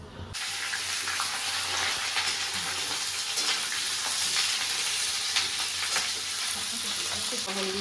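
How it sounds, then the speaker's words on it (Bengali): Vegetables for Bengali khichuri frying in a wok (kadai), a loud, steady sizzle that lasts throughout with occasional stirring scrapes, no talk. "সেই সবজিগুলো এবার আমি একটু ভেজে নেব"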